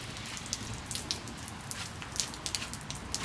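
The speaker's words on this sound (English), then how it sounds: "It's still raining." Rain falling and pattering onto surfaces around a garage during a barbecue, a steady wash of soft hiss broken by scattered close drips and taps.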